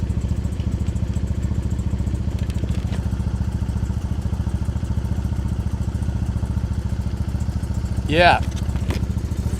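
A Triumph Bonneville motorcycle fitted with an aftermarket exhaust idles with a steady, deep, throbbing pulse throughout, and a voice briefly speaks over it near the end.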